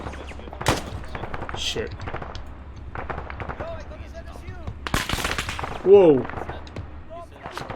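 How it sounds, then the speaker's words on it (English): Gunfire in the military video game ArmA, with several sharp shots cracking out over steady background noise and one louder burst near the end, while voices talk over it. "Shots from the northwest."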